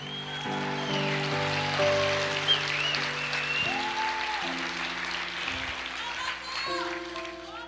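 Church congregation applauding during a sermon, a dense steady patter of many hands sustained throughout, with a sustained musical backing underneath.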